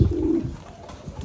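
A male American giant pigeon in a Thai-style cage gives a short, low coo at the start, followed by a quieter murmur and soft background noise.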